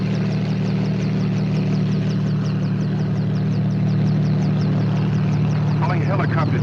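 Helicopter engine and rotor in an old film, a steady, loud droning hum with a rhythmic blade chop that holds throughout, while a voice speaks over it near the end.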